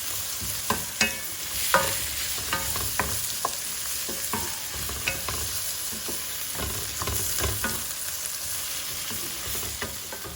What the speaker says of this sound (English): now you see the garlic starting to brown